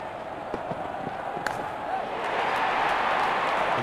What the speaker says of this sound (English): Out come the openers, cheered by a good crowd.